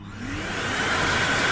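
A Makita 36V (18Vx2) mobile dust extraction vacuum, run plugged in on mains power, roars with a loud steady whooshing whine of strong suction, close and continuous.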